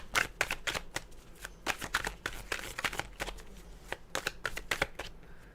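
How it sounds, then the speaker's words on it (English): Tarot cards shuffled by hand, close up, in a quick run of crisp riffling bursts with short pauses between them, fairly loud with no talking. "And let's shuffle this."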